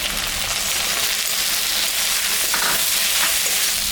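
Spices fry in hot oil as salt and turmeric go into the pan, a steady close sizzle with faint stirring scrapes, continuous and unbroken, no voices.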